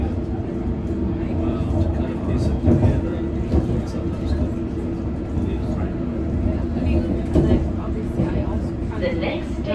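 A London Underground District line train pulling out of Hammersmith, a continuous rumbling roar with clatter and rising motor hum, overlaid by a voice talking.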